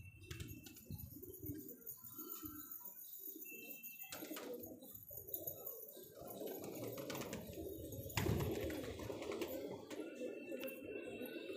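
Soft, low pigeon coos repeat throughout, layered over a busy flock murmur, with occasional sharp clicks and rustles close by.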